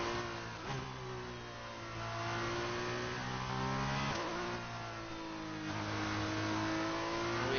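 A Formula 2 race car engine in F1 2019 at Suzuka holds a steady, buzzing high-revving drone, with a few quick gear-shift dips in pitch as it pulls along.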